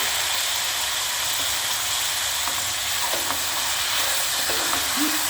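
A steady, broad sizzle of broad beans and onions frying in a pan, with faint scraping and stirring sounds now and then.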